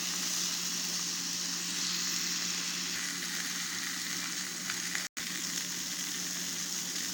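Steak fries in butter in a pan, giving a steady, loud, close sizzle that runs the whole time without a break, with only one tiny dropout near the end.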